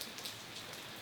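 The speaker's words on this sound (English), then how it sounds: "Rain. Rain. Even more rain." Steady rain falls in Southern California, a faint, even hiss of drops on surfaces with no breaks or voices.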